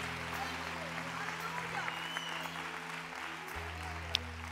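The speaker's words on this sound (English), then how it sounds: "Come on, clap like you are excited about that." Congregation clapping during a church service, a steady, dense wash of applause filling the room with a few sharper claps standing out and voices mixed underneath.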